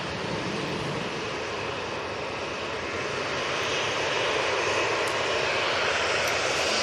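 A Jet2 airliner's engines roar steadily at Manchester Airport, a broad continuous rumble that stays loud and slowly builds over several seconds.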